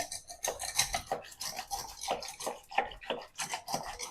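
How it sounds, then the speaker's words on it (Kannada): A hand beater churns curd in quick, steady scraping strokes, close by and fairly soft, with no voices. "ಈ ಥರ ಯಾವ್ದಾದ್ರು ಬೀಟ್ರ್ ಇದ್ದರೆ ಅದರಿಂದ ಬೀಟ್ ಮಾಡ್ಕೊಂಬಿಡಿ"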